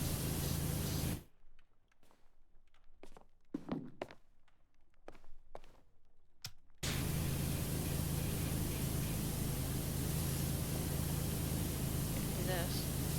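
Continuous hissing water spray in a cleaning video game, loud and steady at the start and again for the whole second half, with a quieter stretch of footsteps and light clicks between.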